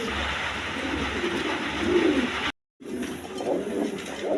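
A pair of Damascene pigeons in light colouring coo steadily, a low murmuring rumble close by with a brief break partway through, no talk over it.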